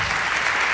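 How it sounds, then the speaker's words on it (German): Brief burst of audience applause in a German stage comedy, dense and steady clapping for a bus driver and his vehicle, heard alone without voices. "Ein Applaus für Thomas, unser Busfahrer und das Gefährt."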